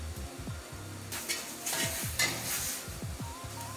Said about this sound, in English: Fry the potatoes.